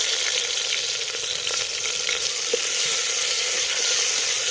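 Onions and whole spices such as cinnamon sizzle steadily in ghee while brinji rice is started, a continuous close frying hiss with faint stirring scrapes and no voices.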